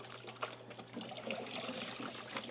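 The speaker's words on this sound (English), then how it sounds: "fresh mop head, put it in, let it soak. And now once I pull it out," Water dribbles steadily from a fresh, soaked mop head as it is lifted out of a bucket, a continuous, fairly faint trickle with a few small splashes, no talk.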